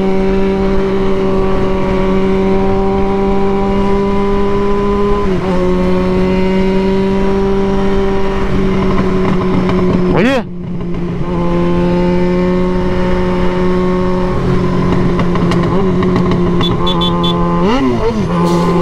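Yamaha XJ motorcycle engine running loud and close, a steady droning note that drops and climbs in pitch with brief rev changes around the middle and near the end.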